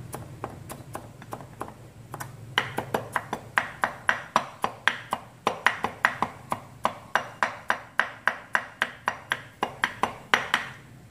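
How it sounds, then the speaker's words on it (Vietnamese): Garlic is minced with a knife on a cutting board, a quick run of sharp, even chopping taps that speeds up into a steady rhythm, close and fairly quiet, with no talking. "Tỏi các bạn là cũng băm ra cho mình."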